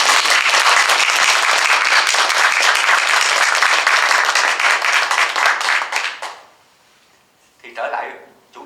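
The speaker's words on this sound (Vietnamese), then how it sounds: "chúng ta cho một tràng pháo tay để khích lệ lẫn nhau" An audience at a book launch breaks into loud, sustained clapping that fades out after about six seconds, followed by a short burst of a voice speaking.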